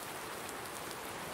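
Rain in the Farming Simulator 19 game, a quiet, even hiss of falling drops with no other sounds over a brief stretch.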